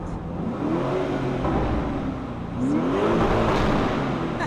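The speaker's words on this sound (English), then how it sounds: "An SUV with this kind of sound." An SUV engine revs twice in rising sweeps, a steady throaty roar that climbs, drops back and swells again, heard close and loud with no talking.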